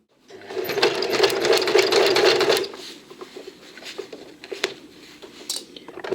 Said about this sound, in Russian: Это я сейчас прошиваю нижний срез, там где у меня 5 сантиметров